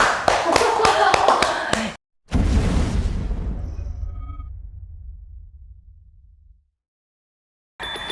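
A quick burst of hand claps, then a loud whooshing boom that slowly fades into silence.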